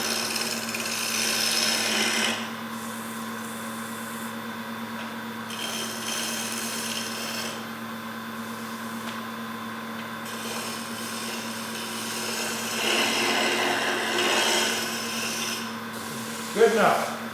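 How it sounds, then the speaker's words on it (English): A scraper shears across a wooden sphere spinning on a lathe, with intermittent scraping bursts over a steady motor hum, close, with a voice now and then. "We're going to shear scrape here."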